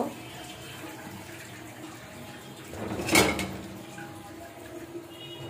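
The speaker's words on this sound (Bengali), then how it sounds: "মাছটা আমি ভালো করে লবণ দিয়ে ঘষে ধুয়ে নেব।" Pomfret fish and potatoes being washed under a running tap in a home kitchen: a soft steady flow of water with a brief louder splash and rush midway, no voices.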